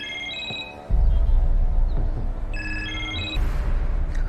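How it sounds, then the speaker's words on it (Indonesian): An electronic mobile phone ringtone plays in short repeating melodic bursts, over a heavy low rumble and dramatic background music in a film. "suara handphone berdering"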